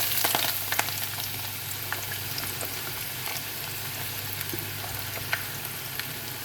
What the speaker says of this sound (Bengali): এখন পেঁয়াজ আর রসুন দিয়ে দিব।